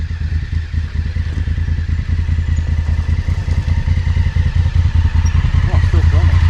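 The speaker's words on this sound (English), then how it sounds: "I'm gonna drive my bike down here." Adventure motorcycle ridden along a wet back-country track, a close, loud, steady engine chug with rattling clatter throughout, and a person's voice over the engine.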